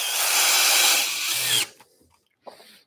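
A power drill countersinks a screw hole in wood for an Adirondack chair, giving a loud steady whir for about a second and a half before stopping abruptly, followed by faint handling knocks.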